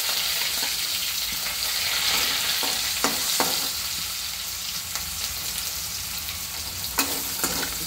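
Onion and curry leaves fry in a pan with a steady, loud sizzle, broken by occasional scrapes and clinks of stirring, with no voices.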